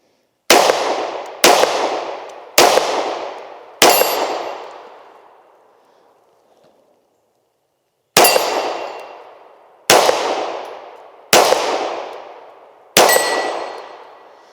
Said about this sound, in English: Shooting at some of the further targets out here.